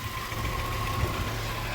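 A car engine idles steadily with transmission fluid mixed into its oil, giving a continuous low rumble and hum with a faint whine, close and even throughout.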